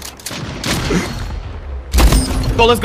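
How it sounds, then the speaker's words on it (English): Shotgun blasts in the Splitgate video game, with heavy booming shots and a mechanical rack between them; a player shouts briefly over the gunfire. "Oh, that's a shotgun."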